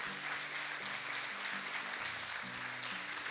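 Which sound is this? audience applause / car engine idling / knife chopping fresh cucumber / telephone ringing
audience applause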